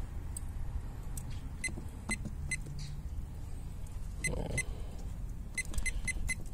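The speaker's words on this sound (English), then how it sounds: "using my little chef alarm" A small chef alarm cooking thermometer chirps in a row of short, sharp electronic beeps, scattered over about six seconds beside a kamado-style Egg grill being readied for a reverse-seared beef tenderloin filet, with light background noise and no talking.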